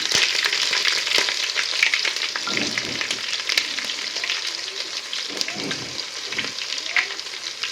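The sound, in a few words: cumin, mustard seeds and whole spices sizzling in hot oil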